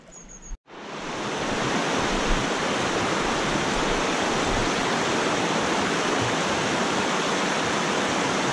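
A high, fast river swollen by recent rains roars steadily and loudly nearby, a dense broadband rush that sets in after a brief pause and continues unbroken.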